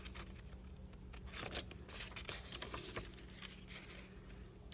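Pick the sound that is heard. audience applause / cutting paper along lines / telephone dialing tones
cutting paper along lines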